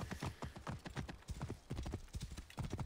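In Assassin's Creed Origins a horse trots with a steady, close clip-clop of hooves, a fast even rhythm of sharp hoofbeats throughout, with no talk.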